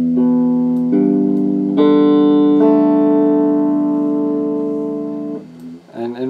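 A restrung guitar sounding out of tune, its sustained chords ringing and changing every second or so, loud and close, with a brief rustle near the end.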